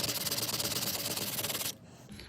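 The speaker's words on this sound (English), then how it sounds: "So I'm just lightly sanding it down." Quick, even back-and-forth rubbing of light sandpaper on a Dean guitar neck, a close rhythmic hiss that stops abruptly after about a second and a half.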